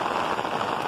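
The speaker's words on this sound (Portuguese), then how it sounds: "Muita chuva aqui" Heavy rain falls in the Sertão at São José do Belmonte, a dense, even hiss of downpour on surfaces, steady and fairly loud with no talk.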